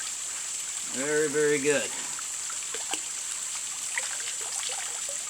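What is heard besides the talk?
running water rinsing acorns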